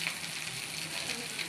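Garlic cloves frying in a pan give a short, steady, moderately loud sizzle, a soft even hiss with no talk over it.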